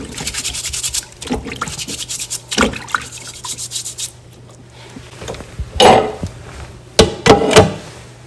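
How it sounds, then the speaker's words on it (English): A vegetable brush scrubs vegetables for juicing in close, uneven bursts of rubbing strokes with short pauses between. "So using my vegetable brush, I'm just going to scrub everything."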